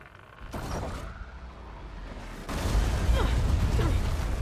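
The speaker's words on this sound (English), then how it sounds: "Wow, that was a huge explosion." An explosion in Horizon Forbidden West, a deep rumbling blast that rises in two heavy surges, the second louder and more sustained, rolling on with crackling debris and no talk.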